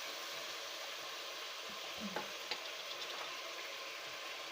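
Beef frying with onions in a pan, a steady hissing sizzle with a couple of faint stirring knocks partway through, close and quiet.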